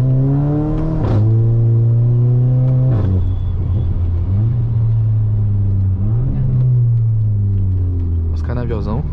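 A Volkswagen Jetta Stage 3 accelerates loudly, its engine note climbing in strong harmonic sweeps with gear changes, close and dominant, while someone talks over it.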